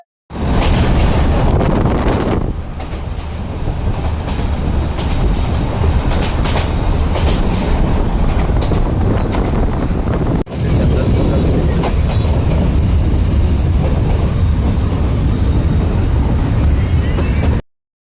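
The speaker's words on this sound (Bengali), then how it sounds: "আমরা অলরেডি ট্রেনে উঠে পড়েছি, এখন ট্রেনে আছি।" Loud, continuous rumble and rattle from inside a moving passenger train in Bangladesh, with wheels clacking on the rails and wind buffeting the microphone throughout, dipping briefly partway through.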